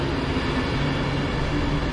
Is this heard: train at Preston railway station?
yes